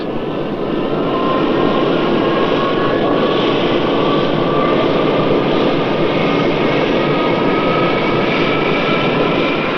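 The Concorde 002 prototype jet taxis for its first flight, a loud, continuous engine roar with a steady high whine that holds unbroken throughout, close by with no speech.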